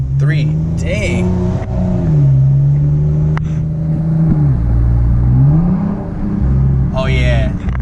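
A car fitted with a Pedal Commander, set in sport 3 mode, accelerates hard with a loud engine note rising and falling through gear changes, while people talk over it inside the cabin.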